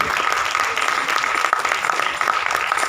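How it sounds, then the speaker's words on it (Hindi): Loud applause from an event audience in Damodar Hall, Parel, welcoming Sushil Maheshwari to the stage, dense steady clapping close by with no speech. "मैं चाहूँगा कि आपकी ज़ोरदार तालियां सुशील महेश्वरी इनका मंच पर स्वागत करें"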